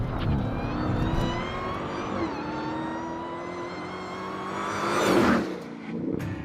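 A Dodge Challenger SRT Hellcat muscle car's powerful engine roars and climbs in pitch as it accelerates hard, the revs rising and swelling near the end.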